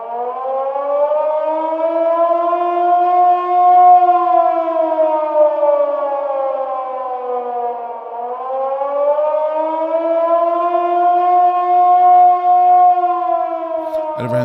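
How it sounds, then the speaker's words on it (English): Air raid sirens wail loud and alone, a long rising and falling tone that swells, dips around the middle, then climbs again in a second slow cycle. "air raid sirens started to yell"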